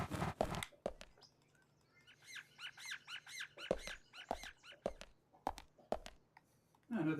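Bird chirping in the game Deadly Premonition, a quick run of bright repeated chirps between sharp clicks and taps, moderately close with quiet background.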